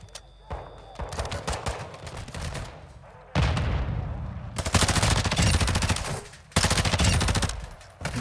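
Rapid bursts of automatic gunfire in Call of Duty: Modern Warfare II Warzone 2.0 crackle in long strings, separated by short pauses, loud and close with some background noise.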